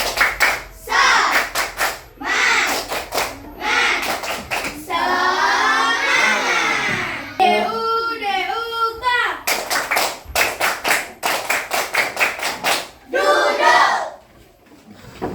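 A class of schoolchildren performs a rhythmic clapping cheer, with bursts of fast unison hand claps alternating with loud chanted voices in a classroom, close and energetic throughout.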